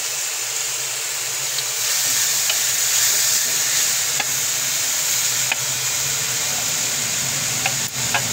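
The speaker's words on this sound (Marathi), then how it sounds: "हे टाकून घ्यायचं आहे आपल्याला तुपामध्ये। तुम्ही बघू शकता आपलं तूप छान असं विरघळलेलं आहे। तर आता हे गाजर टाकून घ्यायचं आहे।" Grated carrots frying in melted ghee for gajar halwa give off a steady, close sizzling hiss that holds constant throughout, with faint occasional clicks of stirring.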